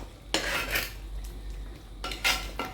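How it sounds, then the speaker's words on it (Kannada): Mutton masala with fresh coriander and mint is stirred in a clay pot, a spoon scraping and clinking against the earthenware in two separate bursts a couple of seconds apart, close and fairly crisp, with no voices. "ಇನ್ನಿದಕ್ಕೆ ಕೊತ್ತಂಬರಿ ಸೊಪ್ಪು ಮತ್ತು ಪುದೀನ ಕೂಡ ನಾನಿಲ್ಲಿ ಹಾಕಿ ಮಿಕ್ಸ್ ಮಾಡ್ತಾ ಇದ್ದೇನೆ"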